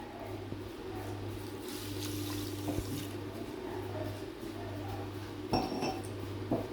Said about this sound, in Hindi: और जितनी हमने चीनी डाली उतने हम पानी डालेंगे।